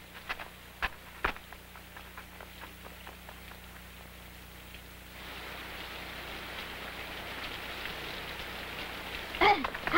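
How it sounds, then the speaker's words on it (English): Steady rain falling outdoors, a soft continuous hiss with scattered drip and patter hits, growing denser partway through, with faint voices and a sharp knock near the end. "It started to rain."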